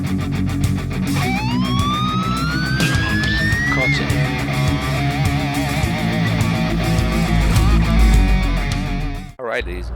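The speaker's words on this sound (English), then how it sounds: "that's a fuel truck, or rather fire trucks driving away" Fire truck sirens wail as the trucks drive away from a road base, a rising, sweeping tone over a heavy engine drone with other siren layers, loud and close, cutting off near the end.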